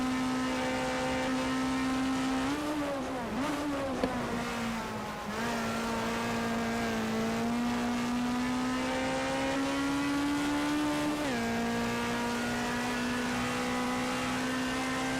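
A race car in the Grand Prix Legends sim racing game takes a left-hand corner at Rouen-Les-Essarts, its engine a loud, steady drone that dips in pitch twice as the throttle eases, then recovers, heard alone.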